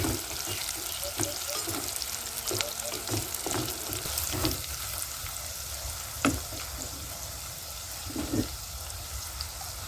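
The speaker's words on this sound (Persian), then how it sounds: "بعد از اینکه پیاز خوب سرخ شد و دو طرف گوشت یه تفت خورد" Onion and meat fry in a pan, a continuous close sizzle and crackle broken by several brief stirring clacks and scrapes, moderately quiet and without talk.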